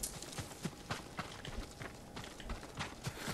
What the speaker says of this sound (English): Hey, look, a horse again.